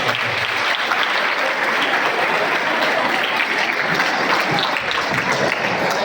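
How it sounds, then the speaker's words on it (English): Sustained, dense applause fills a farewell celebration held like a school program, loud and even throughout with no breaks or individual voices standing out. "Give a big round of applause."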